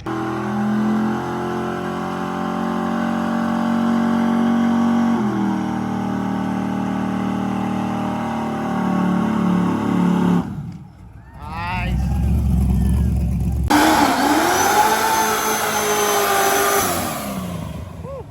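A drag car does a burnout in a cordoned-off burnout alley, its engine holding a loud sustained roar that dips briefly before surging back with revving, while voices carry over it.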